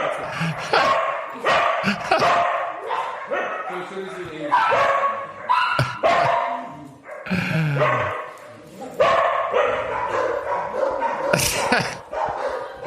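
Several dogs at an animal sanctuary bark and yip in repeated sharp bursts, loud and close, with some whimpering between them, while people talk over the noise.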